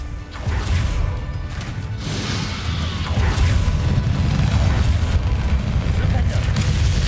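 Confringo fire-spell blasts in the Hogwarts Legacy boss fight against Ranrok: a loud crash and booming explosion with crackling debris, sustained and rumbling throughout amid battle noise.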